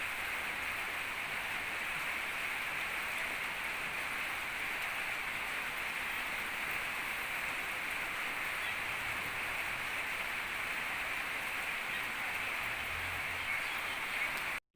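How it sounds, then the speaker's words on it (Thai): Steady, dense rain hiss falls continuously, even and unbroken throughout, with no voices over it. "น้องฟ้ายังตากฝนอยู่ค่ะ"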